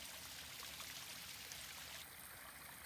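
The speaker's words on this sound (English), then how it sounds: "It's the coolest little waterfall I've ever seen," A small spring-fed waterfall splashes in a steady, continuous rush, close and fairly faint, with no voices over it.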